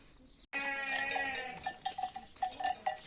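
A mixed flock of goats and sheep, including a ewe and young lambs, bleats repeatedly at close range, several overlapping cries following one another, with a cowbell-like clank among them.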